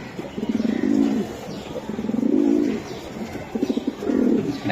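Racing pigeons of the Budapest breed coo repeatedly at close range, with rhythmic throaty bursts rising and falling in several phrases, no talking over them.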